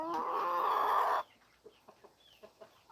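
Backyard chickens on a homestead: a loud, sustained rooster-like squawk opens, then several short clucks follow in an uneven rhythm, close by and alone.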